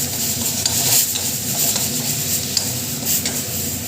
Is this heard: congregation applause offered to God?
no